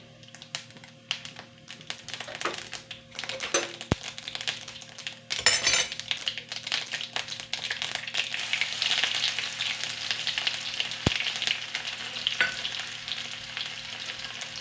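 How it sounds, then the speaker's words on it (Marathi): Cumin, mustard seeds and crushed garlic fry in hot oil for shepu bhaji, a steady sizzle broken by spoon clinks and scraping against the pan, with a louder burst of crackling partway through. "मी ठेचून घेतलेले असे लसूण आहेत ते त्याच्यामध्ये टाकूया."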